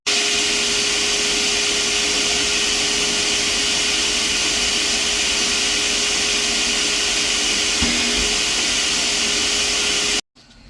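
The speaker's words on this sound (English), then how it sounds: "suck it out with a vacuum" A vacuum cleaner roars steadily at close range with a constant high whine, running without pause before cutting off abruptly near the end.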